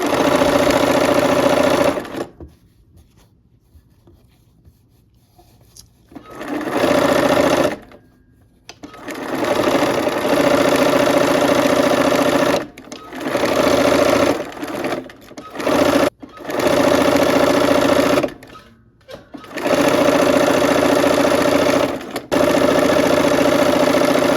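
A sewing machine stitches a quarter-inch seam along both sides of marked lines in quilting, running in steady bursts of varying length with brief stops between them, close and clear.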